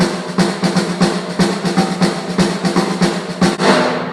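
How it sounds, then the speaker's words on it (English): A single paradiddle pattern on a drum kit, left hand on the snare while the accented right hand strikes another drum, a busy, even run of close, punchy hits with no talking. "put one hand, like the left hand on the snare drum, the other hand playing that pattern on a different sound source"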